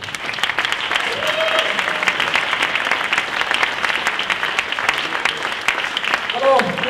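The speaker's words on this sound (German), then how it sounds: "Ein Applaus!" A comedy-show audience applauds as a Swiss comedian comes on stage. The clapping is steady and continuous with a few short voice sounds over it, and a voice speaks briefly at the end.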